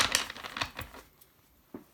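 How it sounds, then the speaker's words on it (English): Tarot cards are shuffled and riffled during a reading, a quick burst of crisp, close clicking flicks for about a second, then near silence and a final single tap. "I'll just shuffle my cards back in a little bit, so please excuse the sound"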